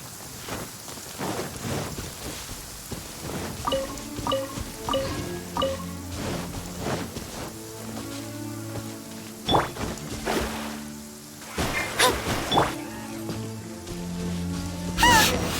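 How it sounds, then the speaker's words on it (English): Steady heavy rain in the video game Genshin Impact with a constant hiss, soft musical tones and sharp crackles rising through it, growing stronger toward the end. "Quite a downpour."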